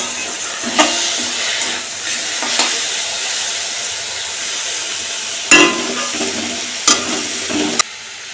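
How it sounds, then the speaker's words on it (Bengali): Bengali fish curry simmering in a home kitchen pan, giving a steady, moderate sizzle and hiss punctuated by several sharp spatula knocks and scrapes against the pan, with no talking. "এখানে মাছের ঝালটা হচ্ছে"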